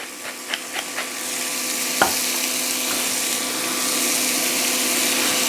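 Onion sizzling alongside lightly browned prosciutto in a hot pan, a steady broadband frying hiss running throughout with a few soft stirring clicks near the start and one sharp tap partway through, no voices.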